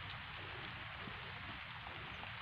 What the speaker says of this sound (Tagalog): Ayan, tuloy-tuloy na naman yung ulan mga kasi-farming,